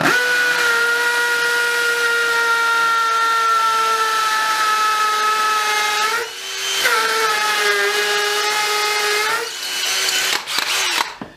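A Dewalt DCD795 drill bores into wet brick with a loud, high steady whine that dips briefly as the motor strains under load, then winds down near the end.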